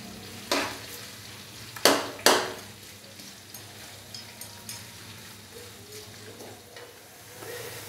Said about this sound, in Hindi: प्याज डालने के बाद हमने प्याज को हल्का सा फ्राई कर लिया तकरीबन 3 से 4 मिनट के लिए